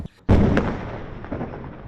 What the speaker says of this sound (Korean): 가자 지구 곳곳이 다시 폭발음에 휩싸였습니다